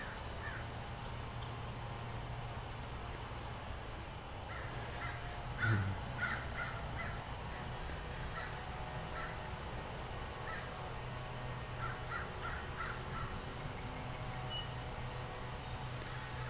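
Several crows caw on a quiet Sunday morning, a few distant calls spaced apart over a soft, steady outdoor hum, with faint chirps mixed in.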